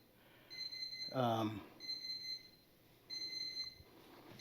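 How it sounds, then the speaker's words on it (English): A timer alarm beeps in three evenly spaced bursts of high electronic tones, moderately loud, with a brief spoken exclamation between the first and second bursts. "there's my timer"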